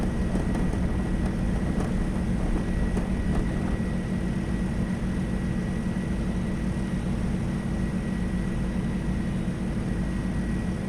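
A propeller aircraft engine at full throttle in the World of Aircraft Glider Simulator video game, a loud steady drone with a low hum holding unbroken throughout, no talk over it.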